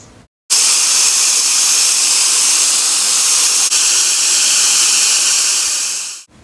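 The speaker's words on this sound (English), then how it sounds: "Okay, let's switch over to the flat nozzle so that we can style or dry the hair." A mini wireless compressed air duster fitted with a flat nozzle blows a loud, steady rushing hiss of air close by for about six seconds, starting abruptly and tapering off as it shuts down.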